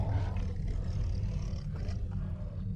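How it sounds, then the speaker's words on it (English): A low, menacing growl from an unseen creature among the trees along a river, a deep rumbling roar that sustains loudly for about three seconds with no voices. "and then a low, terrible growl."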